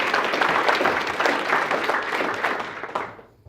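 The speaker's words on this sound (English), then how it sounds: "Give them a big round of applause." Audience at a hypnosis demonstration applauds the volunteers, a full round of clapping that holds steady and then tapers off quickly to quiet.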